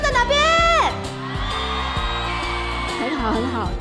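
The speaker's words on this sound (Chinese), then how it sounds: "想听一下我们新竹县最热情的尖叫声在哪边？" Concert crowd at a 2021 New Year's Eve countdown show in Hsinchu County lets out a loud rising scream and whoop at the start, then cheering carries on under live band music.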